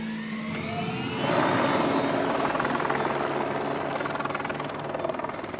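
Steady helicopter rotor and engine roar in the mountains of Andorra, loud and close, swelling slightly after the first second and holding a constant droning whir throughout.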